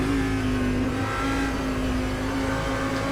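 Audi R8 GT3 race car engine in the rFactor 2 racing simulator at Mugello, a steady loud drone with a constant tone throughout, no talking.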